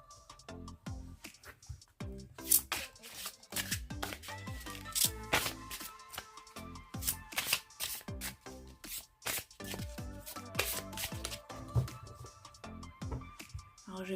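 Oracle cards being shuffled by hand, a steady run of papery riffles and slaps going on throughout, close and fairly loud, with no talking over it.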